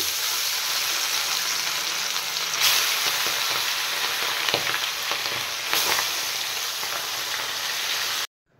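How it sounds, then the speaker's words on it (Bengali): Bele fish sizzles steadily in hot mustard oil, a dense, loud crackling hiss with brief louder flare-ups as pieces settle, running continuously before cutting off abruptly into silence. "তেল গরম হয়ে গেছে, এবার আমি মাছগুলো ছেড়ে দিচ্ছি।"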